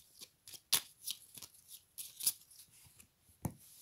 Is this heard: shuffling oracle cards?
yes